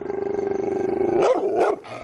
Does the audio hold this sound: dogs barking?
yes